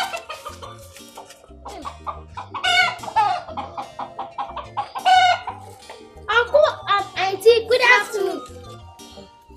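Chickens cluck and a rooster crows repeatedly in bursts close by, with a voice briefly audible among the bird calls.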